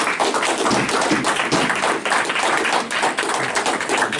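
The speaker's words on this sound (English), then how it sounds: "A round of applause for these, ladies and gentlemen" Round of applause at a wrestling promotion press event, steady dense clapping from a modest crowd filling the room throughout.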